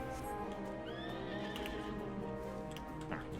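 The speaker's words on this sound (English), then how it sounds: "I appreciate my mount neighing at them." A horse mount whinnies in the video game Final Fantasy XIV, a brief, faint neigh set against a dense, steady game soundtrack and ambience.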